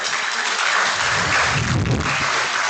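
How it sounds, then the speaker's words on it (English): An audience at a general membership meeting gives a round of applause, a loud, dense, continuous clapping roar with some low rumble in the middle, filling the whole short stretch without voices. "Please give them a round of applause."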